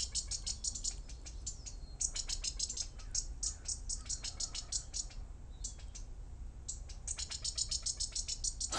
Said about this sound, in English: The birds are clucking away there for some reason.